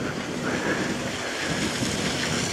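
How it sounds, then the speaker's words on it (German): Small waterfall, the Beutenfall in the Kirnitzsch valley of Saxon Switzerland, rushing as a steady broadband wash of water, continuous and even, with no talk. "Und da ist ja auch dieser kleine Wasserfall."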